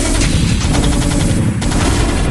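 Dense, loud rapid-fire bursts of gunfire and explosions from a tank battle in a StarCraft match, a continuous barrage of shots with no voices over it.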